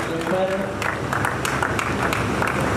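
A theatre audience at a Hindi stage play claps in a scattered, lively burst, with voices audible through the applause.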